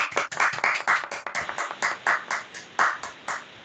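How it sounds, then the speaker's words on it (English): A small seminar audience applauding the speakers, a brief, fairly quiet patter of separate claps in uneven rhythm, close by and with no talk over it. "give them one final round of applause"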